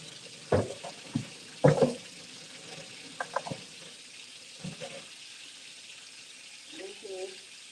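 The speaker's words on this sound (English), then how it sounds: "wash up my hands" Running tap water hisses steadily in a kitchen sink while hands are washed, with scattered clunks and splashes over it and a short voice near the end.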